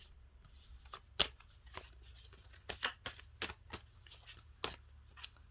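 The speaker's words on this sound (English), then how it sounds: "Can't shuffle today." Cards being shuffled in quick riffles and taps, close and quiet, in irregular bursts with short pauses, no talking.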